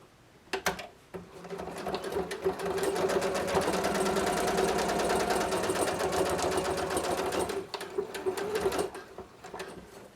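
A sewing machine runs a side seam on a quilted vest in one steady stretch of rapid needle chatter, close and moderately loud, with a few short starts and stops before and after.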